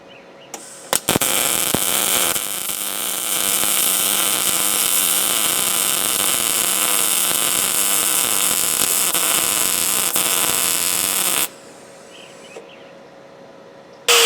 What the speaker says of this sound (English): Now let's get this thing welded up.